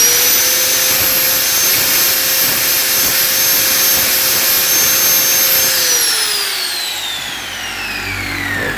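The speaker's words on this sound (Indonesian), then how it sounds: "Nah, bagian kopnya saya gerinda." An angle grinder works on an engine cylinder head from a Honda GL Neotec motorcycle, giving a loud, close, steady whine that winds down near the end. No one speaks.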